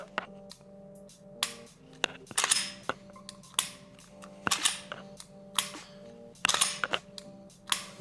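A pistol trigger is dry-fired, with crisp metallic clicks repeated at uneven intervals, some in quick pairs, close and clear over a faint hum, with no talk.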